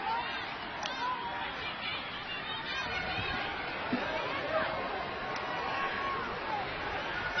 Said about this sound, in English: A little bit of crowd noise here.